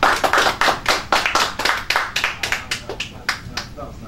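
Close, sharp handclaps ring out in an uneven rhythm as a small audience applauds two candidates, with individual claps distinct and gradually softening.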